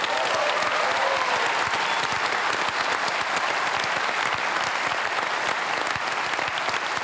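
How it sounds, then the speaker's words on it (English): A Melbourne studio audience at the Deakin Edge gives a round of applause, bright dense clapping that holds steady and close throughout, with no voices over it. "You can give yourselves a quick round of applause."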